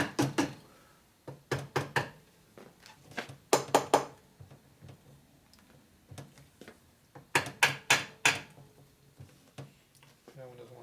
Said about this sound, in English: I like using my plastic hammer to adjustments.